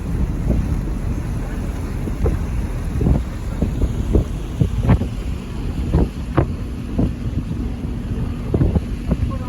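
A tour boat motors across Lake Itasca with heavy wind buffeting the microphone, steady engine and water rumble throughout with occasional gusty thumps, no talk.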